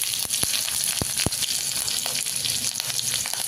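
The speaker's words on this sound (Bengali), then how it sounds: "তেল গরম হয়ে গেছে, আমি কালো জিরে আর সামান্য 5 ফোড়ন দিয়ে দিব। চেরা কাঁচা লঙ্কাটা দিয়ে দিব।" Nigella seeds, five-spice and slit green chillies sizzle in hot mustard oil in a wok, giving a steady close crackle with a few sharp pops and spatters.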